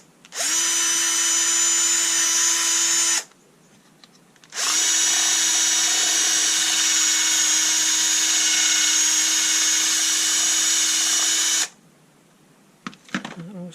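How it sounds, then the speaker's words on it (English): Two long bursts of a power drill driving a step drill bit through a hedge trimmer battery housing, whining at high speed, the first about three seconds, the second about seven, with a short pause between. "the step drill should be good enough"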